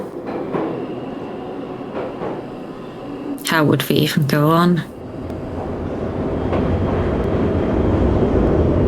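Ghost trains passing in the video game Pools: a constant rail rumble with a steady roar that swells toward the end, while someone speaks briefly midway.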